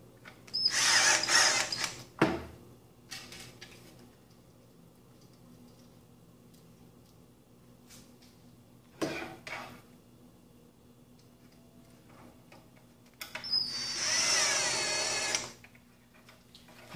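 A screw gun drives screws into a wooden snake rack in two loud, sustained whirring bursts at the start and near the end, with brief clicks and knocks between them and no talk.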